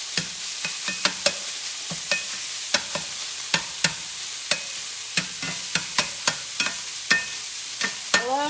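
Sausage browning in a frying pan for sausage gravy, heard as a steady low sizzle with repeated sharp clicks and scrapes of a utensil stirring against the pan, a short voice appearing right at the end.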